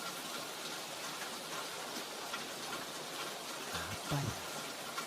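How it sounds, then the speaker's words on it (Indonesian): Steady rain falls throughout, a dense even hiss of drops on surfaces with a few louder patters near the end; a voice briefly asks a question over it. "ternyata suara air hujan."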